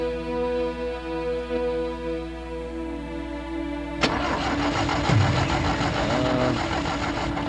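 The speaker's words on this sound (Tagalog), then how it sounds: "bigla na lang huminto yung makina" A car engine dies abruptly: a steady idling hum runs for about four seconds, then cuts off with a sharp jolt, leaving rougher, uneven noise behind it.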